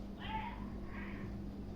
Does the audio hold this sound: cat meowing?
yes